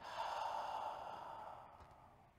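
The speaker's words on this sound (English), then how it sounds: "One big inhale, one big exhale" A slow, deep breath during a seated yoga practice, a soft airy sigh that fades over about two seconds, heard alone and close.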